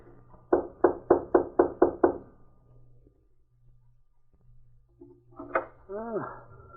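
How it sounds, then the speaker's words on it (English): Six quick, evenly spaced knocks on a cabin door ring out loud and close in an old-time radio drama, followed after a pause by a voice speaking. "This is Fontaine's cabin. I'll knock."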